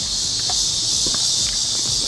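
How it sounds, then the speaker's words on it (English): Cicadas or locusts buzz outdoors as a dense, continuous high-pitched drone that stays steady and loud, with faint scattered rustles and thumps underneath. "Sorry about the locusts or the cicadas in the background."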